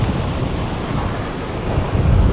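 Storm surf on a Tenerife beach during a gale, heavy waves rolling right up the shore in a continuous roar, with strong wind buffeting the microphone and the wash swelling louder toward the end.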